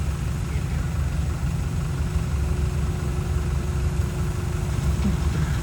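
Steady low engine drone of a combine harvester working a field, a continuous heavy rumble with a faint high whine, constant and fairly loud throughout.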